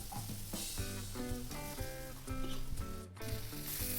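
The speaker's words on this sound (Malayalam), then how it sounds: "ഇത് ഇടയ്ക്കൊന്നിങ്ങനെ മറിച്ചിട്ട് കൊടുത്താൽ മതി. കൂടുതൽ എണ്ണയിലിട്ട് പൊരിക്കേണ്ട ആവശ്യമില്ല." Chicken pieces frying in a little oil sizzle steadily in a pan, with close crackling and occasional stirring under background music.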